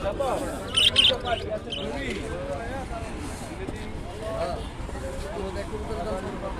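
Budgerigars chirp and tweet in quick high bursts early on, then fade under steady crowd noise and voices of a busy outdoor village market in Sonargaon, Bangladesh.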